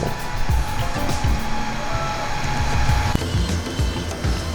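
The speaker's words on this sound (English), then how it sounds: "we're actually pumping in through that pickup tube right now just to transfer back over" A brewing pump transfers wort through a silicone pickup tube during a whirlpool, giving a loud, continuous motor whine with rushing liquid and a pulsing low rumble.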